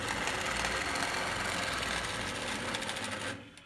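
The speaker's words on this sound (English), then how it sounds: "I'm going to sew against the unnotched edge, and that's the edge I have on the edge of the binding" Sewing machine stitching binding onto the edge of a quilt, a steady, dense mechanical whir running continuously at close range before stopping abruptly near the end.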